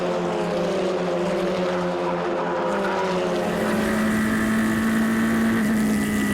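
FR Americas open-wheel race cars running at Canadian Tire Motorsport Park, their engines a steady loud drone that rises and shifts in pitch as the pack in close formation passes, with no talk heard.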